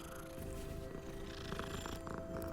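A cat in the video game Hogwarts Legacy purrs softly while being petted, a quiet continuous rumbling purr with faint game ambience and tonal hum underneath.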